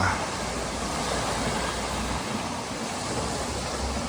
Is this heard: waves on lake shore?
yes